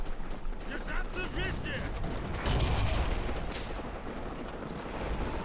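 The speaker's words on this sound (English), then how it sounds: "Wow, it's a tank shooting at us." Tank cannon fire in the WWII shooter Forgotten Hope 2, a heavy boom rolling in near the middle amid continuous battle noise, with a voice talking over the din.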